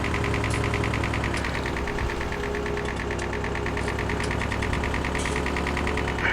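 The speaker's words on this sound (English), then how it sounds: "It sounds like it's got a rod knocking in it." A video game tractor engine in Farming Simulator 19 idles continuously with a rapid, regular rod-knocking tick running through it, loud and close, with no pauses.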